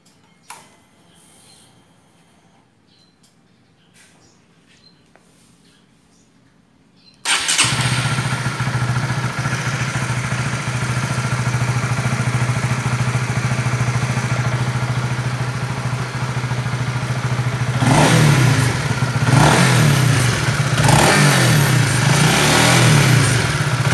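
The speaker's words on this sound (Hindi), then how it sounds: "एक बार इस बाइक के एग्जॉस्ट को हम चेक कर लेते हैं कि कैसा है इस बाइक का स्टॉक एग्जॉस्ट" A Honda CBR 150R with its stock exhaust fires up after a quiet pause, then idles close by in a steady, even burble before a few brief revs lift the note.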